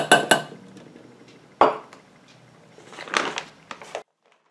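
Small containers clink and knock while massage candle mixture is switched to a larger container: a few sharp glassy or metallic hits, a louder clatter, then quieter rattling, close by with no talking.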